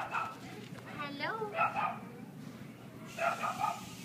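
Dogs at an animal shelter give short yips and whimpering barks in a few bursts, with people talking nearby between and over them.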